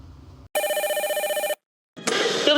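A home landline telephone rings in a steady electronic trill, one burst of about a second, then a short silence before a second ring begins.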